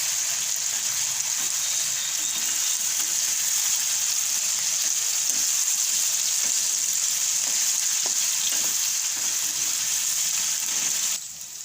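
Potatoes frying in hot oil with salt and turmeric for a drumstick and potato curry, a steady, close, hissing sizzle that runs unbroken with a few soft stirring clicks.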